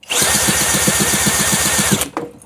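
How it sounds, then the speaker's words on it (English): A power drill spins the flywheel of an old outboard boat motor, with a loud, steady whirring and rapid rhythmic ticking for about two seconds before it cuts off abruptly. "Now I'm just gonna spin the flywheel with a drill."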